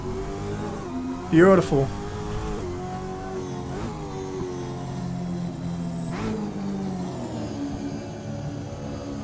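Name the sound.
1963 Bathurst-winning Cortina race car changing down through the gears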